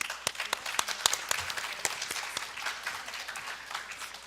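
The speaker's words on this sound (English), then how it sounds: "Can we give them a big round of applause," An audience at an English speaking and debate competition claps for the debate team, a fairly quiet, sustained patter of individual claps with sharp separate hits.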